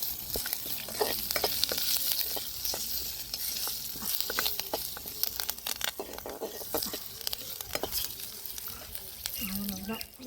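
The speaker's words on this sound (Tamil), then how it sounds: "கடுகு ஜீரகம் எல்லாம் நல்லா பொரிஞ்சிருச்சு" Mustard seeds and cumin crackle and pop in hot oil for a South Indian tempering, a busy close sizzle full of sharp spluttering bursts with a spoon stirring throughout and a voice speaking faintly underneath.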